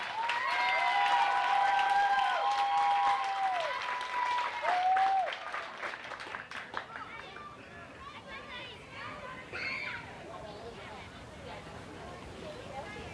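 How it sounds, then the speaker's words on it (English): An audience at a county fair pageant claps steadily for the contestants, loud at first, then thinning into scattered claps and crowd murmur, with music briefly underneath. "All right, let's give them another big round of applause,"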